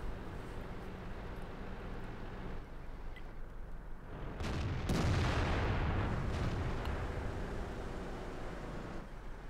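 Cannon fire from a tier 8 Chinese 110 tank in World of Tanks, a loud booming blast near the middle followed by a rumbling decay over steady engine and battle background noise.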